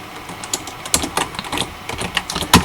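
A computer keyboard clicks as a search is typed, with irregular bursts of sharp keystrokes and brief pauses, close and clear with no voices.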